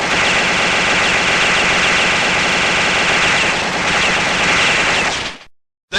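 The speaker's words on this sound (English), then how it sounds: "헤비머신건." Heavy machine gun fire from the Metal Slug arcade game: a loud, dense, unbroken burst of rapid shots running about five seconds, then cutting off abruptly into silence.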